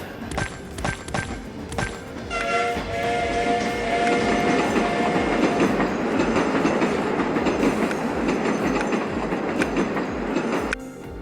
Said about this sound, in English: Okay, those noisy trains